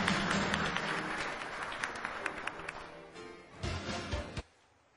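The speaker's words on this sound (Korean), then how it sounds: "박수로 맞이해 주십시오." An audience at the opening ceremony of the 2010 World Strategy Forum claps, a dense wash of applause that thins toward the end, breaks into a few scattered claps, then stops abruptly.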